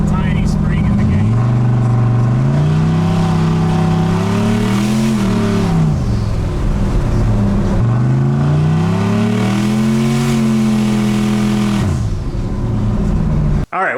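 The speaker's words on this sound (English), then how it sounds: "I think we're hitting boost cuts still." A turbo LS-powered street truck accelerating hard, its engine note climbing and cutting out at the boost cut in two long pulls, loud and close from inside the cab.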